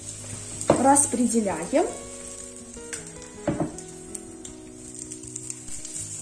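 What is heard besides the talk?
zucchini pancake batter sizzling in a frying pan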